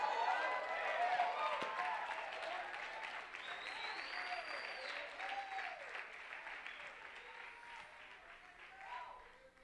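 A church congregation bursts into loud sustained applause with cheering and shouts during an apostolic gathering, filling the room and slowly fading toward the end.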